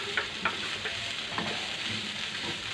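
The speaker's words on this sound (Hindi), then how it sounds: "चलो सारी सब्जियां डाल करके इसे मैं अब थोड़ा सा चलाऊंगी।" Vegetables for Singapore rice stir-fried in a pan, a steady soft sizzle with a few scraping stirs of the spatula, close and moderately quiet, no talking.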